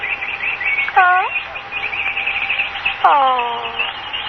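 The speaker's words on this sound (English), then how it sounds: "Those birds, I don't like them." Caged birds chirp in an old radio drama, with a steady high twittering bed and two louder descending calls standing out, set against faint low background noise.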